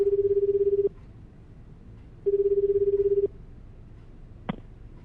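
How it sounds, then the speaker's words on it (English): A phone call ringing in the video game 428: Shibuya Scramble: two steady electronic ring bursts, each about a second long and separated by a pause, followed by a brief click, with no voices. "Kano got out his phone and called Stanley."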